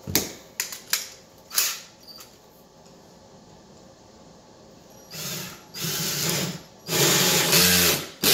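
A drill bores holes into corners for a Sweepovac installation: a few short whirring bursts, a quiet pause, then two longer, louder drilling runs close by.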